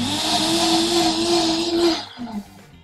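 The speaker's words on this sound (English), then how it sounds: "We're gonna give this another whirl in the blender." A blender whirls chili sauce with garlic paste and xanthan gum, a loud steady motor whir lasting about two seconds before winding down and stopping.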